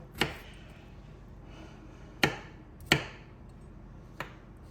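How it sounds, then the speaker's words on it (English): A slicing knife cuts through food on a board in a cabin kitchen, with four sharp, separate knocks spaced unevenly over a quiet background. "I'm gonna keep slicing, and we'll be back when I get all this sliced up"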